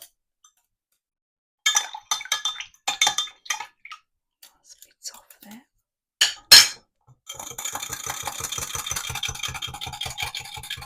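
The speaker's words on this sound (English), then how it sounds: "Just going to whisk that up." A lemon vinaigrette is whisked in a bowl, heard as a fast, steady run of light metallic clinks close by. A few separate clinks and knocks come first, with a brief voice among them.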